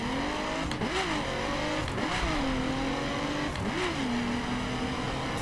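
The Godzilla dragster in The Crew Wild Run revs its engine in three rising bursts over a steady, droning idle, loud and close with no voices.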